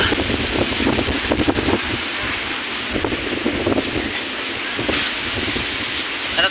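Strong wind roars and buffets the microphone in continuous gusts, with a low rushing rumble and a few brief bumps, no voices.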